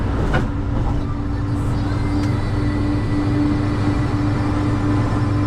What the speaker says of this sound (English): Well, you'll hear the wind noise, that's for sure.